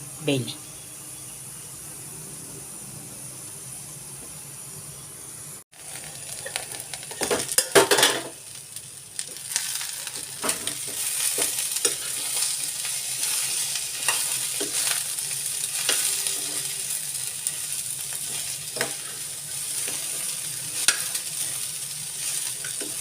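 Eggplant for vangibath cooking on a low flame in a pan, a steady soft sizzle with intermittent clinks and scrapes of a metal spoon against the pan, mostly alone with occasional talk.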